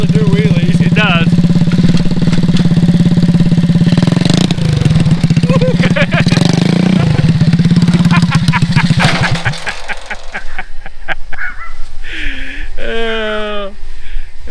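A rat rod wagon go-kart engine revs hard and buzzes loudly during wheelies, then drops away as people talk nearby.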